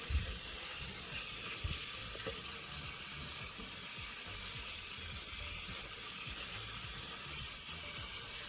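Tap water running steadily from a faucet onto a small guest towel held under the stream to soak it fully, a continuous near splashing hiss with faint handling clicks and no talking.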